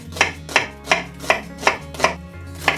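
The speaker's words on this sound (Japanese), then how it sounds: "ババアの天敵玉ねぎをみじん切りにします" Knife finely chopping onion on a board: a steady run of seven crisp, evenly spaced chops, close and loud.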